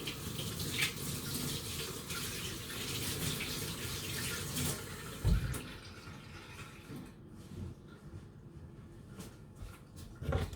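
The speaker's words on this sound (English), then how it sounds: "Right, I'm going to wash my hands." Tap water runs steadily into a sink while hands are washed before making cheese and onion pasties, a loud continuous splashing rush with a brief thump midway, then the flow thins and quiets near the end.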